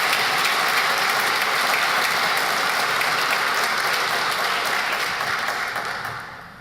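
Sustained audience applause at a veterans and military family center unveiling ceremony: dense, steady clapping from a crowd that holds level, then tapers off near the end.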